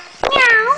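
A small child imitates a cat with one short, clear, rising and falling meow, close to the microphone.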